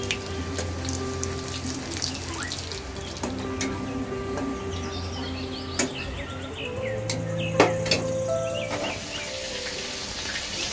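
Boiled potatoes seasoned with salt and turmeric fry in hot oil, giving a steady low sizzle and hiss that runs through the whole stretch, with faint tonal background sounds and a few small clinks.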